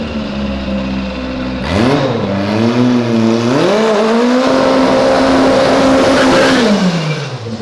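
A car engine on Avenida Europa revs loudly through its exhaust, climbing and dipping in pitch over several throttle blips before holding a high, sustained roar that then tapers off, close and unaccompanied by talk.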